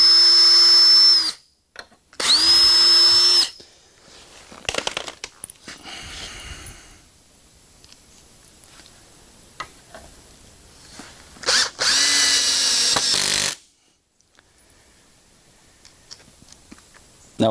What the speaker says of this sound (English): I'm going to pre-drill this one